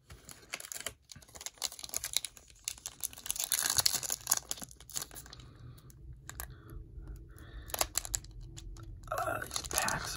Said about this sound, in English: These packs are weird for opening, that's for sure.